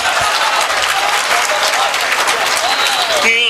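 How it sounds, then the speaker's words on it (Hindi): Sustained audience applause fills a Hindi-Urdu shayari poetry recital, dense steady clapping from a crowd throughout, ending with a brief tonal sound at the close. "तालियां बजाइए सभी लोग।"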